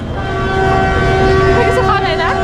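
Train passing close by, with a loud sustained horn tone running across most of the moment over a rumbling rail noise, and a voice faintly audible underneath.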